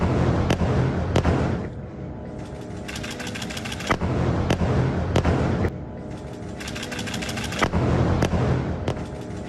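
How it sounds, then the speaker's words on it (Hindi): Israeli air strikes with air-to-surface missiles pound north Gaza at night: sharp, loud blasts recur every second or two over a continuous rumbling roar. "धमाकों से दहलते रहे शहर के कई क्षेत्र"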